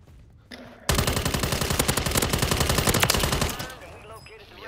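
Automatic gunfire in Warzone, a loud, close, rapid burst of evenly spaced shots lasting about three seconds before cutting off, with brief quieter sounds before and after.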